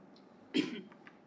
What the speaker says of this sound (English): I also promised I'll cough